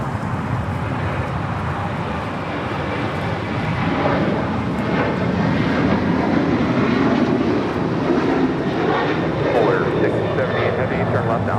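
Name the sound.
Polar Air Cargo Boeing 777 arriving at LAX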